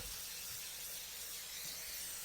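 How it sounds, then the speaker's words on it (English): Cooking spray hisses in one continuous close burst as it coats a deep 9-by-9 casserole dish for pork chops, with no talking over it. "Now with my pork chops here, we're going to spray that."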